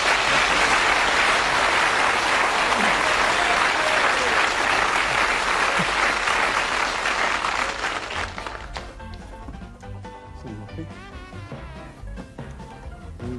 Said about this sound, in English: The audience are going to give you a lovely warm round of applause